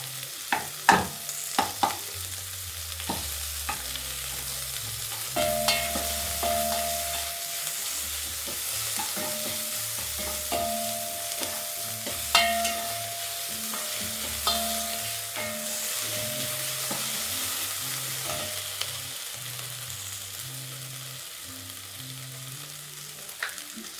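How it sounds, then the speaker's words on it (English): Onions fry in a pot for beef fried rice, a steady low sizzle broken by frequent clinks and scrapes of a utensil stirring against the pot, close and continuous with no talking. "So we'll fry this for just like a minute."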